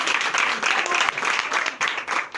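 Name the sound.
congregation applauding in church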